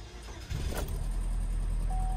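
A Chevy Cobalt with 127,000 miles cranks briefly and catches, settling into a loud, steady idle with a faint tone sounding near the end, recorded at a car auction.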